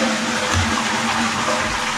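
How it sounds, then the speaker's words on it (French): A toilet in a London hotel bathroom flushes, a loud close rushing and gurgling of water that fills the whole short moment without pause. "Chasse d'eau pour la pisse."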